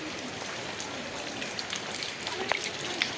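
Steady rain falls overnight onto a village road and surfaces, a dense, even hiss with a few sharper drip taps toward the end.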